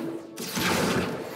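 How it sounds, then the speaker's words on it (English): A swelling magical whoosh from the Accio summoning spell in Hogwarts Legacy, bursting in suddenly after a brief quiet moment and holding as a bright, airy rush for about a second. "Accio!"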